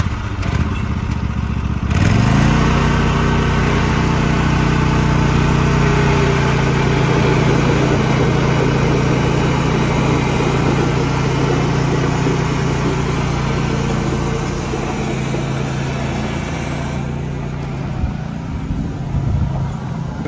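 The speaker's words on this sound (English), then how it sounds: "we got a running Murray lawnmower that's been sitting for about 2-3 years now" A small engine of an old Murray lawnmower, left sitting two to three years, starts up and runs loudly at a steady, rattling idle close by, droning on for the rest of the clip with no talk.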